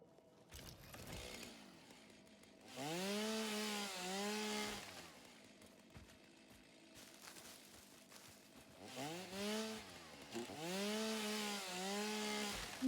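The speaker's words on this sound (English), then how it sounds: "Chainsaw." Chainsaw cutting in the video game Satisfactory, a steady revving buzz with two louder bursts that rise and fall in pitch, running several seconds each, with no talking.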